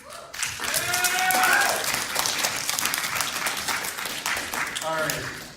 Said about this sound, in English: And one more round of applause for Sai.